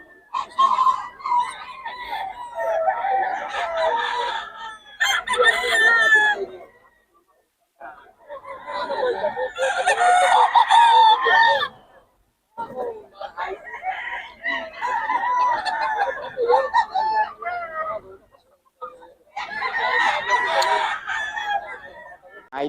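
Roosters crow repeatedly and chickens cluck at a Bocaue flea market. The calls come in loud, close bursts with short quiet gaps between them.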